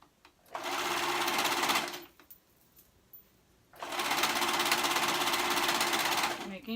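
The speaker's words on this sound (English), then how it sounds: "And now I'm going to go ahead and serge that on." Serger overlocker stitching knit fabric cuffs onto a sleeve, two loud steady runs of rapid mechanical whirring separated by a short pause.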